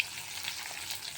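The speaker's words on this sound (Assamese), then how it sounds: "আৰু এয়া কৰি আছে ফ্ৰাই" Fish frying in a pan gives a steady, close hiss of sizzling oil that runs without pause throughout, with no voices.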